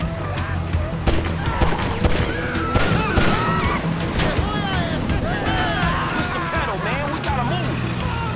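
Gunfire in the video game GTA 5, a busy, dense mix of shots, engine noise and chaotic effects, with people talking excitedly over the top throughout.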